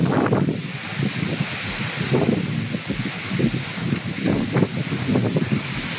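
Steady gusty wind blowing through Bagori, a tribal mountain village near Harsil in Uttarakhand, a constant broad rush with rustling and buffeting against the microphone, no voices.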